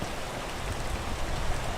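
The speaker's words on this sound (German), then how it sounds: "Weil es regnet." Steady, dense rain hisses in the video game Peak, an even wash of drops falling on surfaces with no voices, constant and close throughout.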